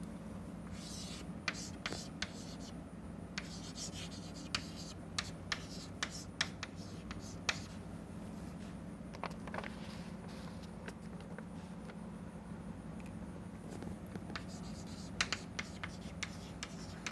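A pen draws a microscopy schematic by hand on paper, steady soft scratching with frequent sharper ticks and taps over a low steady hum, close and quiet throughout.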